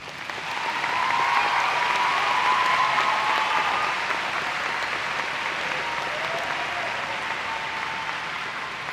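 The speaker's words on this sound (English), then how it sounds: "Join me in giving the senior class a round of applause." A large graduation audience applauds the senior class at a high school ceremony, a dense, steady wash of clapping that swells within the first second and holds near full strength throughout.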